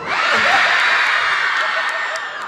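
A fan crowd at the Club Media Fest YouTuber event in Argentina shouts and cheers loudly and continuously, a dense roar of many voices filling the whole stretch.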